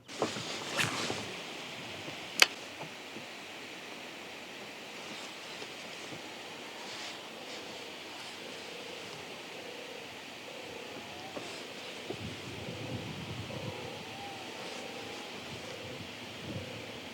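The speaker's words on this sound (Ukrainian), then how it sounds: "Піднявся вітер" Wind gusts and a low outdoor rush of moving air under faint background noise, with a sharp knock early on.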